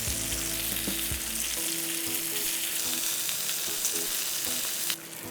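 Jackfruit pieces frying in masala in a pan give a loud, continuous close sizzle with a few soft stirring knocks, under faint background music.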